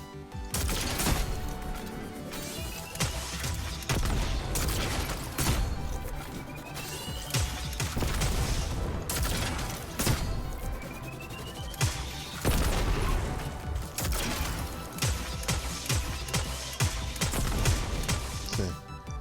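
Rapid weapon fire in Destiny 2, rocket launcher blasts and rifle shots in quick succession, with repeated sharp bangs, booms and reloading clatter throughout, loud and busy.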